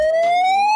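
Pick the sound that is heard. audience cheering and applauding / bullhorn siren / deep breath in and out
bullhorn siren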